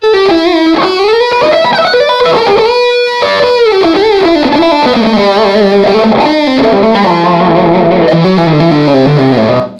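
Distorted electric guitar through real amps, playing a sustained, bending melody with a lush, spacious reverb wash, loud and continuous.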